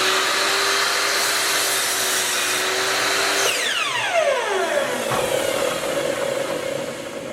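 Fixed drop saw whining steadily at full speed, then cutting through a piece before the motor note sweeps downward as the blade spins down, loud and close throughout.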